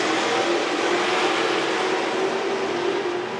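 IndyCar race cars at full throttle during 2021 Nashville practice and qualifying, a loud, steady, unbroken roar that holds level for several seconds with no talk over it.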